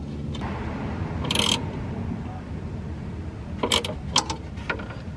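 Metal ratcheting and clicking bursts from a wrench tightening a nut during dashboard repair on a 20-year-old Lexus IS300, a short rattle early on and several sharper clicks near the end over a steady low background hum.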